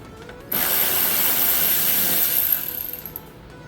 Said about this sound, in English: let me open this bolt here